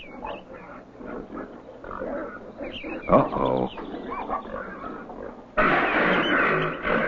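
Pigs rooting and grunting in a cottage garden in a medieval village of 1128, with squealing and snorting bursts mixed under a short spoken exclamation and busy nearby animal noise.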